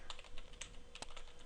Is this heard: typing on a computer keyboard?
yes